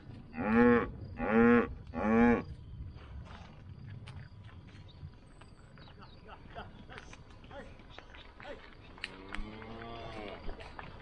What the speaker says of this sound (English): And of course, the cows get there right away.